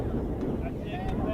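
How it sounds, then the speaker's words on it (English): Wind blowing across an outdoor field during a girls' junior varsity lacrosse game, a steady low rumble of gusts buffeting the microphone throughout. "Wind picking up here a little bit."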